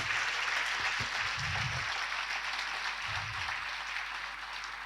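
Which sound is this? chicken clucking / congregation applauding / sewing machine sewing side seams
congregation applauding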